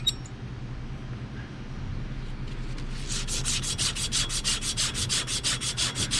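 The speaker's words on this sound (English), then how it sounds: "So we're just going to sand our copper pipe, get that nice and shiny." Copper pipe sanded clean before soft soldering: faint rubbing at first, then a close run of rapid rhythmic abrasive strokes that turns steady and louder over the last few seconds, with no talking.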